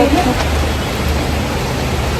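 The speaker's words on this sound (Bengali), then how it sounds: "কত জোরে বৃষ্টিটা হচ্ছে দেখছো" Loud, constant roar of heavy rain, a broad steady hiss close by, with a brief voice near the start.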